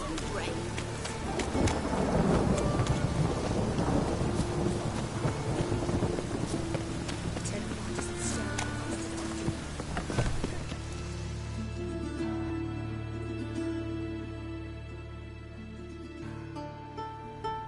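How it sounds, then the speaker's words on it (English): Steady rain and rumbling thunder in The Witcher 3: Wild Hunt, a continuous wash of downpour with a heavier roll near the start and a loud crack midway, a tonal music bed running underneath. "It just rains and rains."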